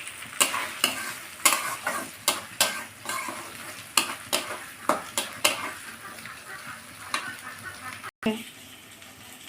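Spice paste for a Bengali boal fish curry being stirred and fried in a pan, with repeated scraping strokes over a steady sizzle, close and fairly loud, with no talking.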